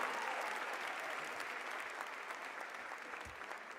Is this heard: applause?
yes